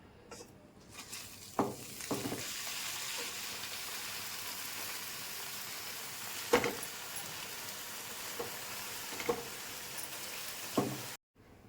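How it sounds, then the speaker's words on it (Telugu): Washed gongura (sorrel) leaves wilting in a hot kadai, a steady low sizzle with scattered sharp crackles and pops across the whole stretch, no voices. "శుభ్రంగా కడిగి ఇలా కళాయిలో వేసి వాడ్చుకుందాం"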